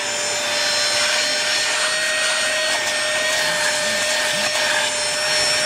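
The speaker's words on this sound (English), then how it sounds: "Pull out the handle. And start vacuuming." A Farasla cordless compact car vacuum runs with a steady, high-pitched whirring hum and a thin tonal whine, close and constant throughout with no talk.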